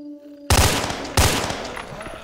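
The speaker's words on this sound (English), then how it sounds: "So that's a double burst shot round" Two sharp, loud burst-fire gunshots from STALKER: Shadow of Chernobyl, spaced about half a second apart, each followed by a rolling echoing tail that fades slowly.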